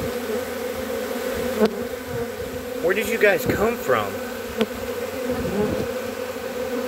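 A constant, droning buzz of a honeybee swarm, about five to six pounds of bees, fills the background, close and steady, while someone speaks briefly over it.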